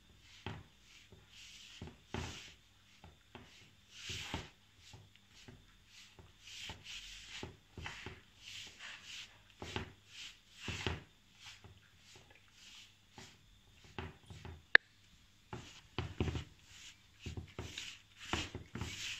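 Hands work flour, salt and yeast mixture into pizza dough, producing soft, quiet rubbing and patting sounds in irregular short bursts with pauses between.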